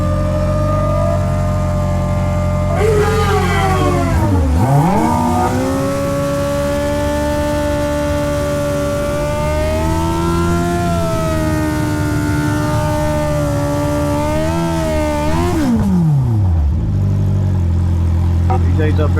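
A 2025 Suzuki Hayabusa drag bike revs hard at high RPM for a launch, its loud engine note rising, dipping and climbing again in long sustained sweeps, with voices talking under it.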